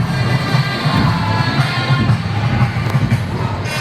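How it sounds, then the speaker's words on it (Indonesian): A stadium crowd at the opening ceremony of Indonesia's 28th national MTQ Quran recitation competition claps and cheers in a continuous, fairly loud roar with scattered shouts. "Berikan tepuk tangan untuk Provinsi Banten."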